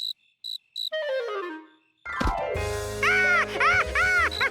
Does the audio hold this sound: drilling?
no